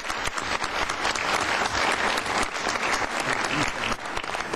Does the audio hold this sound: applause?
yes